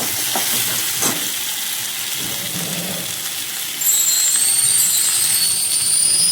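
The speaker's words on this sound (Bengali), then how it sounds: "সবজিগুলো ভাজা হয়ে গেলে" Onion, tomato, peas and green chilies fry in a pan with a steady, dense sizzle and hiss that keeps going throughout and grows a little louder and brighter partway through, with no talking.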